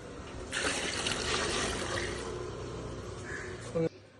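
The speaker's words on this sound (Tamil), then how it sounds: "இப்போ நம்ம பால் ஊற்றியாச்சு, தண்ணி ஊற்றியாச்சு." Water poured into about 5 litres of milk in a pot while making a milk sweet, a steady splashing, gurgling pour lasting several seconds close by, ending with a brief louder splash.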